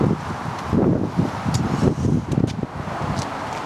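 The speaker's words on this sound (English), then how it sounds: "it's kind of windy right now" Gusty wind buffets the microphone outdoors, a steady low rumble with rustling surges throughout.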